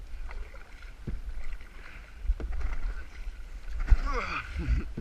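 Kayak paddling on water during a two-person outing, with soft splashes and strokes under steady wind noise and people talking in between.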